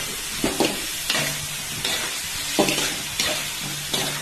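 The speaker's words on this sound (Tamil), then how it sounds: "இப்போ கொஞ்சம் நல்லா வதக்கிக்கிறோம்." Brinjal and tomato sauté in a pan with turmeric, an ongoing close sizzle broken by about eight sharp scraping strokes of a spoon stirring at irregular intervals.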